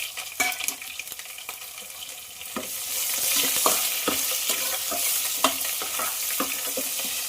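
Onions and dried red chillies sizzle steadily in hot oil in a pan, a continuous frying hiss with scattered stirring clicks that grows louder and denser after a few seconds, with no talking.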